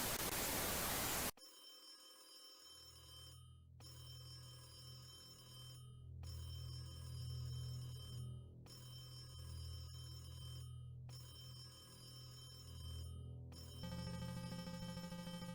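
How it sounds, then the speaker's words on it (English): A telephone rings in the horror video game Creepy Syndrome, a repeating electronic bell tone in regular bursts over a low droning game ambience, loud and steady after a brief burst of noise at the start. "The phone is ringing."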